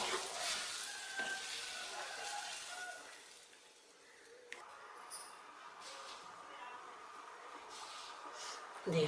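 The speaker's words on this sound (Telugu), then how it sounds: "చింతపండు రసం వేసి ఉడికిద్దాం. చేపలు చింతపండు రసంలో ఉడికితే రుచిగా ఉంటుంది కూర." Fish curry of jellalu simmering in tamarind juice, giving a steady soft sizzle and bubbling through most of the stretch, with faint clinks and a dip in the middle; no talk over it.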